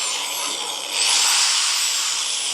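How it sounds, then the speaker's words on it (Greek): A corded electric drill motor runs off a PECRON E600 LFP portable power station's 1200 W inverter, giving a steady high-pitched whine that rises in intensity about a second in and holds loud and continuous, with no talk. "θα προσθέσουμε και ένα τρυπάνι, το οποίο είναι μοτέρ και τραβάει απότομα."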